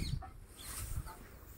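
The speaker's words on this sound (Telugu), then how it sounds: "దీంట్లో 4 కోళ్ళు అయితే ఉన్నాయి." Chickens kept in a coop on a rooftop, with soft clucking and low fowl calls over a steady outdoor background, fairly quiet and close.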